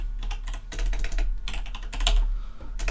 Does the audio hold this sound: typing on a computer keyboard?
yes